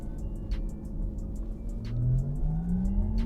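A Porsche Taycan Cross Turismo 4S electric shooting brake in Sport Plus mode gives off its artificial driving sound, a synthetic hum that rises steadily in pitch as it accelerates, over road and wind noise.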